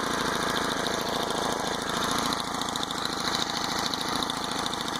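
A Gx25 motorized bike engine runs hard under throttle, a loud, steady buzzing putter with rapid regular firing pulses and a brief dip in revs midway, heard alone without talk.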